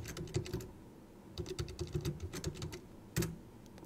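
Keys tapped on a computer keyboard while setting up a Linux install in VirtualBox, bursts of quick clicks separated by short pauses, close and clear with no talking.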